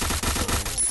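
Sniper rifle shots in a video game, rapid sharp cracks in quick succession, loud and close, with no talking.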